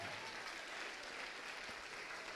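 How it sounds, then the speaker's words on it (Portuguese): A church congregation applauding during a Portuguese-language service, a dense, even spread of clapping from a large crowd, faint and distant-sounding, sustained without a break. "vamos aplaudir mais"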